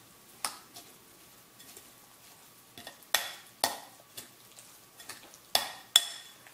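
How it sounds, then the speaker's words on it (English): A salmon cake mixture made with Greek yogurt is stirred in a bowl: a series of sharp, close scrapes and knocks of a utensil, spaced irregularly with quiet gaps between them, and no talk. "Okay, I'm going to stir this until just combined."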